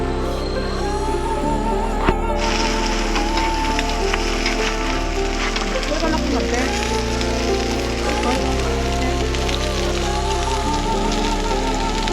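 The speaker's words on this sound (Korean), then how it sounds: "지금 비가 내리고 있습니다" Rain falls steadily at a clean mountain stream in a valley, a dense, continuous hiss of drops on water and surfaces that stays loud throughout with no pauses.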